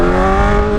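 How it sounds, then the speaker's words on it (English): A car fitted with a loud straight-pipe exhaust gives off a close, heavy, droning engine roar that stays steady throughout the short moment, with no talking. "I literally can't even hear myself fucking talk because this exhaust is so fucking loud"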